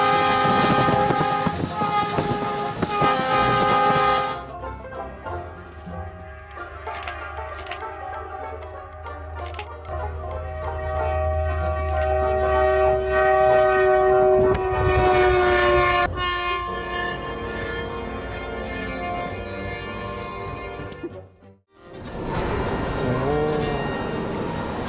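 A train rolls past with a loud, sustained horn blast and rumbling wagons, the sound swelling and shifting as it passes, then briefly dropping away near the end before resuming.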